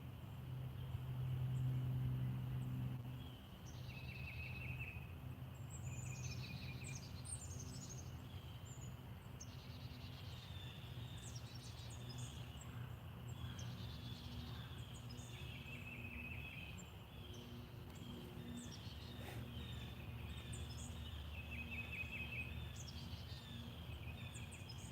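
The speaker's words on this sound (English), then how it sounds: "Can you hear the birds?" Birds chirping outdoors in short repeated high calls over a quiet natural background, faint and somewhat distant, with a low hum and occasional insect-like buzz.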